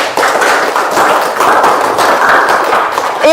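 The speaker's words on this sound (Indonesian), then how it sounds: "Tepuk tangan dulu." Classroom audience clapping hands during a teaching practice session, a steady, dense burst of applause that fills the whole moment at close range.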